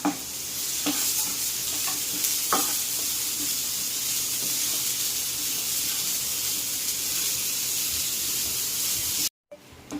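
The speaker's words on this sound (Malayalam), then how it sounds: "ഒരു 1/2 കപ്പ് സവോള, ഇതൊന്ന് ഫ്രൈ ചെയ്തെടുക്കാം." Sliced onion with curry leaves frying in a pan, a dense continuous sizzle and hiss up close with occasional stirring clicks, running steadily alone before a brief dropout near the end.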